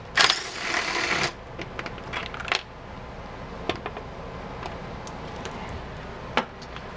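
A 10 mm tool works the coolant tank fasteners loose on a 2020 Shelby GT500, opening with a burst of rapid ratcheting, then scattered metallic clicks and clinks at close range.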